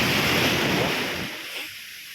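Sea waves with a strong current break at a beach in Zambales, a loud close surge of surf washing in and then receding.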